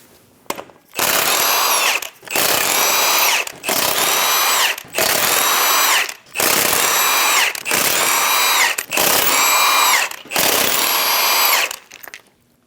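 A power tool with a 22mm socket removes the eight lug nuts from a wheel on a 2003-2025 Chevrolet Express 2500 van, whirring loudly in seven separate bursts of about a second each, with short pauses between them.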